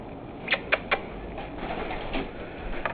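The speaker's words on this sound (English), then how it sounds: "we have a bird in the house" A bird loose inside a house makes a few quick, sharp calls or flutter-like bursts in a row, then fainter scattered sounds over a quiet indoor background.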